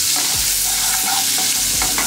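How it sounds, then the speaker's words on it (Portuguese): Butter melts in a pan with olive oil and two unsmashed garlic cloves, giving a steady, close, bright sizzle and crackle, with light stirring scrapes on top. "Manteiga derretendo."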